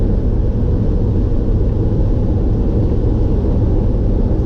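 A Chevrolet C10 pickup truck driving, heard as a constant, dense road and engine roar from inside the cab, steady and loud with no breaks.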